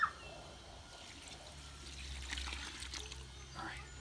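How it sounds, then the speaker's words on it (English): Water trickling and pouring as about a quart is added to cement mix for a playground footing, a steady low splashing stream throughout with faint background noise. "Let's get a quart of water and mix this thing and see how it goes."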